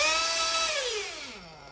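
A 1/8-scale RC nitro engine with a rich low-speed needle winds down from a high buzzing whine, the pitch sliding steadily lower as it drops toward idle, loud and close, no voices.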